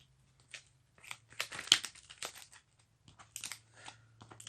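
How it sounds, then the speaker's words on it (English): A deck of playing cards being shuffled at a tabletop game, close crisp riffles and rustling bursts of crinkly paper flicks coming in irregular clusters, quiet background between them, no voices. "I need to shuffle the American cards because we've run out."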